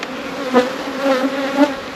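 Honey bees buzzing at an open hive during an inspection, a close, steady droning hum that swells and fades slightly as bees pass.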